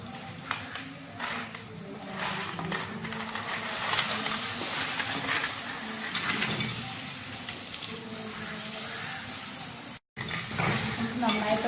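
Crab pieces are turned through masala in a pan for crab curry, a continuous scraping stir over a steady sizzle and hiss, with a short break near the end.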